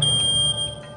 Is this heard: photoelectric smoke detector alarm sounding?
yes